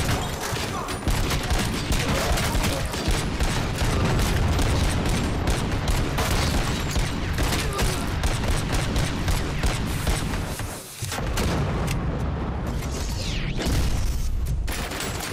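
Dense, loud, sustained gunfire from the Robocop: Rogue City video game, continuous rapid shots with blasts and crashes mixed in, barely easing for a moment midway.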